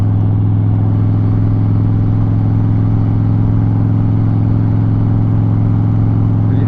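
A 2008 Harley Davidson Softail motorcycle engine rumbles loud and steady with a deep, even drone while riding along, with no change in pace.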